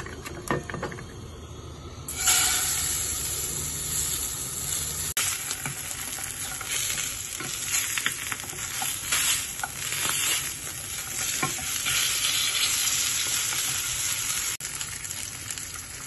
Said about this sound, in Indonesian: sekarang aku mau lanjut goreng ikan salmonnya